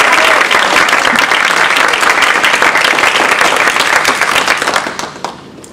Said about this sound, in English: a round of applause for our Toastmaster